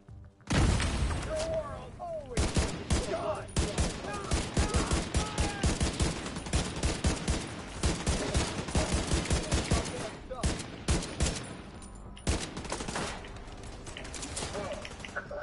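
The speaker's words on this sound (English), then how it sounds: "I've got some kind of machine gun." Rapid machine-gun fire in The Division 2, dense volleys of close shots rattling almost nonstop with brief pauses, loud and up front, with a voice talking over the shooting.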